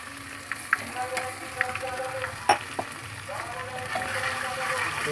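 Onions frying with ginger-garlic paste and green chilies for palak paneer give off a steady close sizzle with scattered pops and crackles, plus brief clinks of stirring. Faint talk rises at moments underneath.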